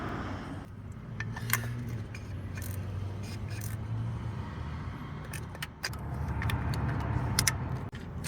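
A 1986 Ford Fox body Mustang with a swapped ignition module is cranked to start, a low mechanical drone broken by sharp clicks and a jangle of keys, then a fuller rumble near the end.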